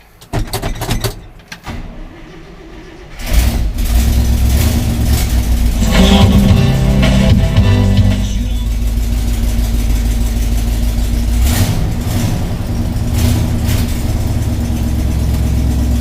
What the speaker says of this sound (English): let's go ahead and get the truck fired up and head on out